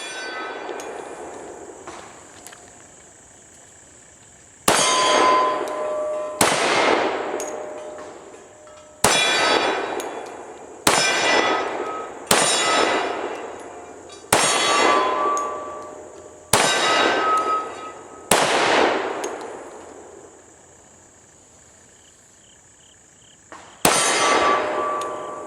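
A 10mm Glock 20SF pistol is fired one-handed outdoors, with about ten loud, sharp reports at uneven intervals, each leaving a ringing decay, and no talking.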